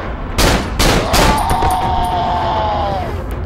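Gunshots in the horror video game Cry of Fear, with three loud, close shots in quick succession followed by a ringing metallic tail and fading echoes.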